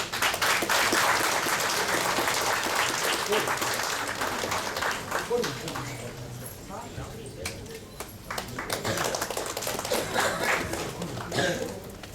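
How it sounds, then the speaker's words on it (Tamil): A packed auditorium at a Rotary gathering in India fills with sustained applause that runs steadily for most of the stretch and eases slightly midway, under continuing speech from a presenter. "அரங்கு நிறைந்த கரகோஷம் இருக்கு"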